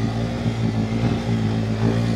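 A Komar moped engine revs hard under too much throttle, a loud, steady, buzzing two-stroke drone with strong low harmonics that wavers slightly in pitch throughout.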